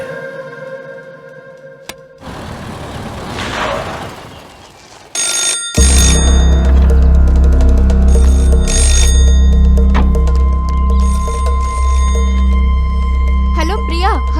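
A telephone rings repeatedly in a dubbed 1980-set Hindi thriller film, shrill bell tones sounding against loud music and scene noise after a burst of noisy rustle; a voice talks.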